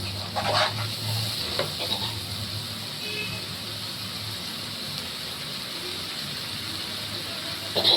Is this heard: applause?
no